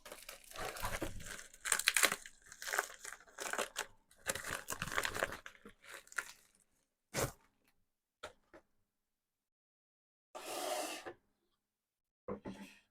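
Equipment for developing photos being unpacked, with close crinkling and rustling of packaging in dense bursts at first, then sparse isolated crackles separated by near silence, quiet overall.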